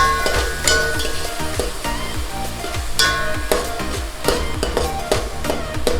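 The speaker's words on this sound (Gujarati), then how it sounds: "ત્યાર પછી પ્યાજ, ડુંગળી માત્રા પ્રમાણે અને બરાબર સાંતળી નાખવાની" Onions sautéing in a hot pan for Gujarati-style dum aloo, a steady close sizzle and crackle of frying with occasional light stirring, running continuously with no talk.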